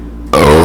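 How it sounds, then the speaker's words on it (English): A man burps straight into the microphone: after a brief quiet moment comes a single loud, close, rough belch that fills the rest of the moment. "So when I burp, do I burp directly into the microphone?"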